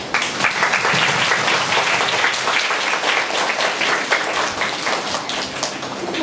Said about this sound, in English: So we give Miss Kunjari a big hand